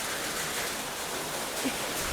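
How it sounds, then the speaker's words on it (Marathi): Heavy monsoon rain near Alibaug, on the coast, falls in a constant dense wash of noise, steady and even throughout with no voices. "पण एवढा पाऊस चालू झाला ना अचानक."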